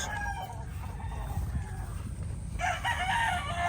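A pure sweetness gray broodstag gamefowl rooster crows nearby, with a full crow rising over a steady background of farmyard noise, and other fowl are faintly audible.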